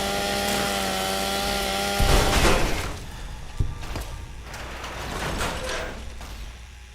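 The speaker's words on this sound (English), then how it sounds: "let's pull out the mini chainsaw." Mini chainsaw from a Fallout game (Big Empty area) revving in bursts with a buzzing, sawing drone, following a steady tonal hum; loud and close, with no talk over it.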